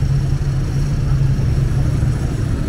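Motorcycles idling in a crowded parking area during a Sunday group ride, including a Ducati and a Hayabusa, giving a steady low engine rumble close by with no talk.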